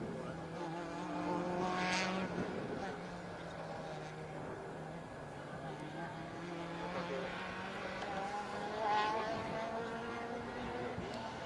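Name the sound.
rally car approaching at speed on special stage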